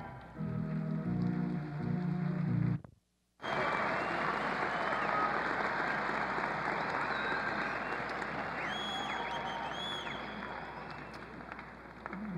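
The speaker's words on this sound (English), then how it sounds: "Graduates, that round of applause was for you" A graduation ceremony audience applauds in a large hall with a broad, sustained roar of clapping. It follows a brief break in sound and continues steadily to the end, with no voices on top.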